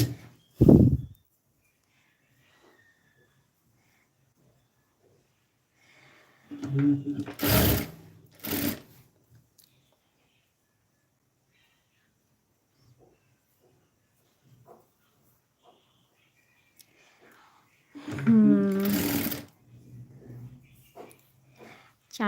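A sewing machine joins fabric pieces cut on the diagonal while a garment is stitched. It runs in two short, fairly loud bursts separated by quiet stretches, and a voice talks in between.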